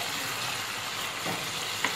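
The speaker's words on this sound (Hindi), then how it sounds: "इसको हम मिक्स कर देंगे अच्छे से, और इसको फ्राई करते रहेंगे" Chicken nahari masala with red chilli and coriander powder fries in a pan, a steady close sizzle with a faint clink near the end.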